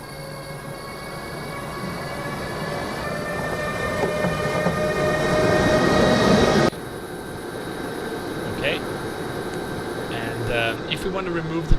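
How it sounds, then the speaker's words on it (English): In the video game Trains & Tracks, a train rumbles past with a steady mechanical hum and rising rail noise that drops off abruptly partway through, then some lighter clicks as the sound continues. "just wait for the train to come back"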